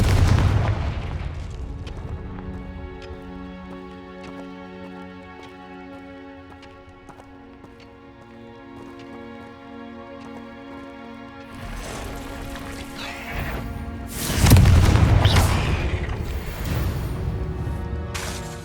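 Confringo explosive spell cast in the video game Hogwarts Legacy: a loud burst and rumbling blast later in the clip, following a stretch of tonal game music and battle ambience.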